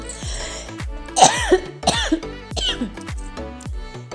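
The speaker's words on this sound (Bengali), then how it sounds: "এদিকে গলা পুরো খুসখুস করছে, কথা বলতে পারছি না, কাশি হচ্ছে।" A woman coughs repeatedly with an irritated, tickling throat, a series of sharp close hacking coughs with some throat clearing and strained breaths between them.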